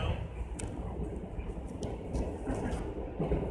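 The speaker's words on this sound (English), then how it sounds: "Look at all these trains and stuff on our way" A steady low rumble of trains passing nearby, continuous and fairly loud, with faint clattering on top and no clear talk.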